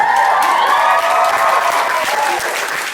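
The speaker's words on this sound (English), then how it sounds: "Round of applause for them." Audience applause for the graduating class of 2009 at a school graduation ceremony, dense steady clapping filling the hall from the start, with a few faint cheers mixed in and tapering slightly toward the end.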